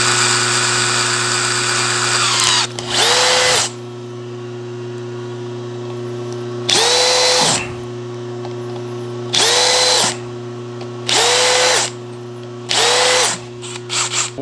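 A power drill chamfers copper soft jaws for Wilton vises in five short, loud whirring bursts, each spinning up and winding down, over a constant electrical hum in a workshop.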